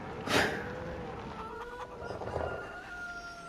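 Chickens in Farming Simulator 25 on the Rudniki map give a sharp, loud squawk, then a few softer clucks trail off close by.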